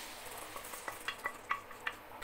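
Boiled dal is stirred into a sautéed tomato-onion masala for dhaba-style dal tadka, a soft wet sizzle with a series of light spoon scrapes and clinks against the pan.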